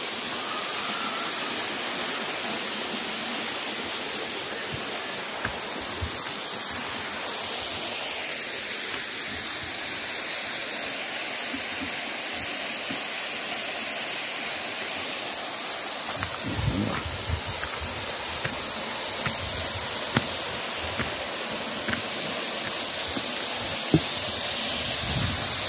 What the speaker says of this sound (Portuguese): Estou passando agora ao lado da segunda cachoeira.